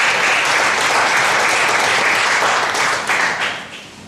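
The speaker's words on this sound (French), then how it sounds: "Donc je voudrais vous demander d'applaudir" A crowd applauds at a French-language presentation on a cooperation program, loud sustained clapping that thins and fades out near the end.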